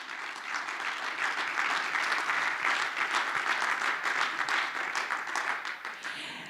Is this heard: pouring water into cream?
no